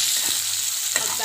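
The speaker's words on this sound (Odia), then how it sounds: "ଆମେ ଚାଲନ୍ତୁ ପିଆଜ ପକାଇବା।" Chopped onions frying in a pan for a cauliflower potato curry, with a steady close sizzle and a couple of brief stirring scrapes.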